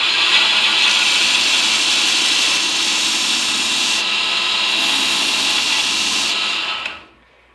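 Belt grinder with a coarse grit belt sanding a burl wood hybrid handle, a steady loud abrasive whir throughout that cuts off at the end.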